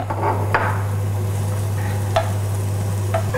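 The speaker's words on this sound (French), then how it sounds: "Alors de l'huile ici. Alors on va faire saisir nos oignons rouges." Red onions sear in hot oil on a cooktop, a steady close sizzle with a low hum beneath and a few soft scraping stirs.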